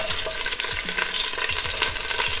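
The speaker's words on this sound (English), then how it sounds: "That fat that's rendered in there is going to be used to cook our vegetables" Vegetables sizzle and fry in rendered fat on a Blackstone griddle, a dense steady crackle close by with faint scraping of stirring, no talk.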